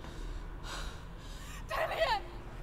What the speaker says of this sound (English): The heavy breathing intensifies.